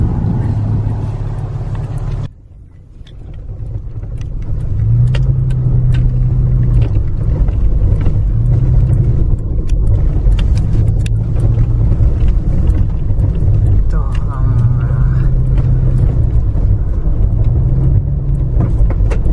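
Off-road vehicle driving along a rough, rocky mine road, its loud engine rumbling continuously with rattling jolts after a brief drop near the start, heard close from inside.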